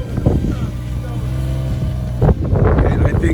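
A Jeep Wrangler in 4 low churns through sand with a loud, rough engine drone. Wind buffets the microphone, and a surge of engine roar and spinning grit comes near the end.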